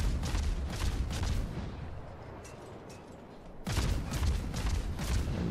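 Naval gunfire from a Khabarovsk destroyer's ship guns in World of Warships: two loud bursts of rumbling shots and impacts, separated by a quieter lull in the middle.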